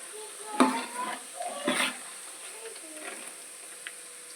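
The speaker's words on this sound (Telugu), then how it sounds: "ఫ్రై అయినాయి చూడండి." Food frying in a pan gives a faint, steady sizzle, broken by a few sharp clinks of a utensil against the pan.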